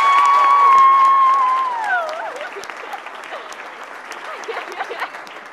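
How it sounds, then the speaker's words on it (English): An audience at a multiple sclerosis charity dinner claps and cheers. A steady high tone rings out at first, then fades into scattered, moderately loud clapping that continues to the end. "Give her a round of applause and I thank her."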